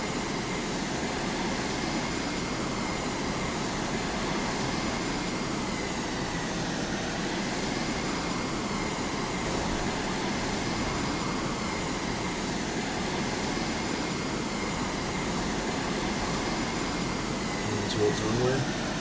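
A steady aircraft engine drones at a constant, even pitch as the plane taxis toward the runway in Carrier Command 2, a continuous hum lasting throughout with no break.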